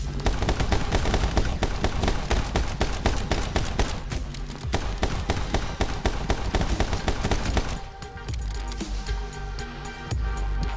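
Rapid, dense gunfire from the action game My Friend Pedro, a loud continuous barrage of overlapping shots that thins into scattered bursts near the end, with no talking.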